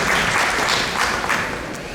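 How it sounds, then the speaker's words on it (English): Brief burst of audience applause at an ISKCON Toronto gathering, many hands clapping close and dense, tapering slightly toward the end. "Let's give a big round of applause for Mother Shyamamohini"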